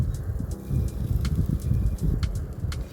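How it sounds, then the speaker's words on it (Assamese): Asian koel calling outdoors in Assam in spring, faint repeated calls far off over a steady low rumble of background noise, with no one talking. "কুলিৰ মাত সকলো চাৰিওপিনৰ পৰা বহাগৰ আগমনি জনাই দিলে"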